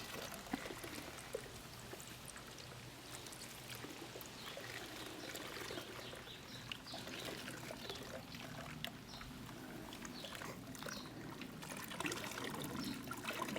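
Warm water from a new portable solar shower trickles and pours steadily for several seconds, a soft continuous splashing stream close by with no talking.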